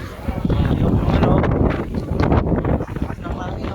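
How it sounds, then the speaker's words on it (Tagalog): Strong typhoon wind gusting at Yung Shue Wan on Lamma Island, with driving rain during a Signal No. 1 storm, roars loud and steady close to the microphone, buffeting it throughout while a voice speaks over it. "lakas ng hangin oh, grabe."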